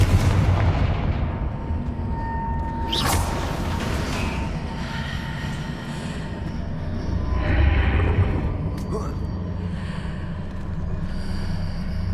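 A Confringo spell is cast in the video game Hogwarts Legacy, producing a sharp, loud explosive crack followed by a heavy rumbling blast, set over a constant low game-ambience drone.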